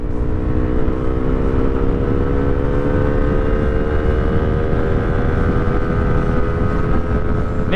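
Racing motorcycle exhaust by Qala Performance held in third gear at speed, a loud continuous engine drone with rising harmonic tone, buried in heavy wind rush throughout.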